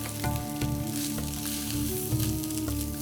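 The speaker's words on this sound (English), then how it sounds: "Make sure that your rice is well coated with the oil. Keep stirring." Rice being stirred in hot oil while toasting with vermicelli, a loud, steady close-up sizzle with soft rhythmic scraping from the stirring running underneath throughout.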